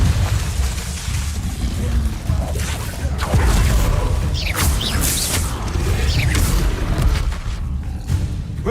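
Confringo blasting-spell explosions from the Hogwarts Legacy video game, dense booming bursts and crackling impacts over a busy low rumble of game effects, with a voice shouting spell names intermittently throughout.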